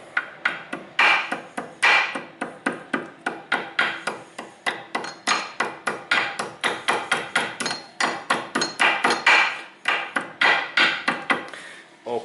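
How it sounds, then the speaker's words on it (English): Repeated hammer blows strike bent metal parts near a car drive axle during a gearbox seal repair: sharp, loud, close metallic strikes in a steady rapid rhythm, dozens of hits with brief pauses, no talking. "then I can use my hammer"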